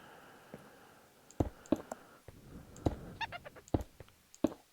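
A parrot in Minecraft imitating a witch: a scattered series of short clicking and chirping game sounds, some louder pops among them, with no speech.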